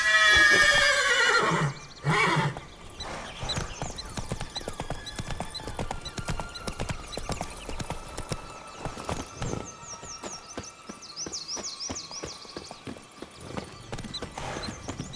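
Roach the horse in The Witcher 3 gives a loud neigh up front, then hooves clip-clop steadily at a walking pace, with faint game music tones drifting above.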